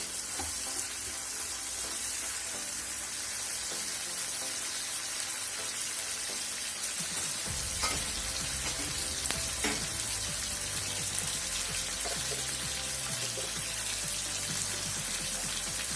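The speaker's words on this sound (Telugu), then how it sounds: "కొంచెం ఫ్రై అయినాక ఉల్లిపాయలు టమాటాలు కొంచెం మగ్గిపోవాలి, కొంచెం ఉడికిపోవాలి." Onions and tomatoes sizzle steadily in a hot pan for a dried fish curry, with a constant frying hiss and occasional stirring scrapes and clinks from about midway on.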